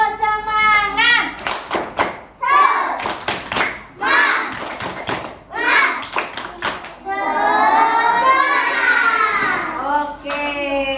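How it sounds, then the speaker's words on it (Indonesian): Children in an Indonesian classroom perform a rhythmic spirit clap, bursts of patterned hand claps and thumps mixed with chanting voices, lively and close, with the pattern repeating in short groups. "Tepuk semangat."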